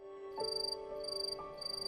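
A cricket chirps in quick, pulsing trills in a quiet night scene from the anime Vinland Saga, with a faint steady tone running underneath.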